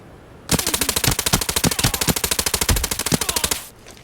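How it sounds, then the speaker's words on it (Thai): Rapid automatic gunfire in the shooter game Arena Breakout, a steady burst of about thirty loud, evenly spaced shots lasting around three seconds before stopping abruptly, with no talking. "เหมือนจะเป็นสไนหรือเปล่ายาว ๆเห็นไหม"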